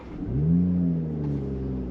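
A 2022 Toyota GR Supra 3.0 Premium fires up, its engine settling into a low, smooth rumble with a brief rising swell at the start, close and alone without talk.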